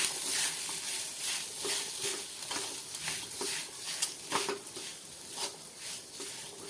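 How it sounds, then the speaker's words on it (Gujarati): A spoon turns boiled potatoes through a spice mixture in a pan. Soft sizzling runs underneath, with repeated scraping and light clinks of utensil against metal at an uneven stirring rhythm, close and fairly quiet. "હવે બટેટાને આપણે મસાલાની સાથે સારી રીતે મિક્સ કરી દઈશું."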